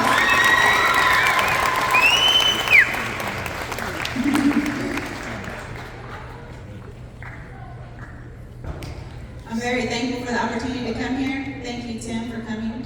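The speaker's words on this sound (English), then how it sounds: "Round of applause for models." Applause and cheering break out for models at a school fashion show in Anadarko, Oklahoma. It starts loud with whoops, fades over several seconds, and a voice comes in over the crowd toward the end.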